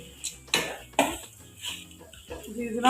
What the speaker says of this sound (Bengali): এবার বাদামগুলো আমি দিয়ে দিলাম।